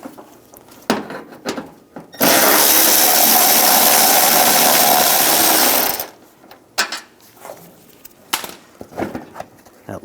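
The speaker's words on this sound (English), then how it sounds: "we're going to take this bolt out, use a 10mm socket." A tool running steadily for about four seconds backs a bolt out of the front bumper of a 2011-2018 Ram 1500 with a 10mm socket, loud and close, with sparse clicks and knocks around it.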